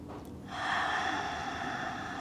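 One deep inhalation during a vinyasa yoga session, a long airy breath drawn in close to the microphone and held steady, with no talking.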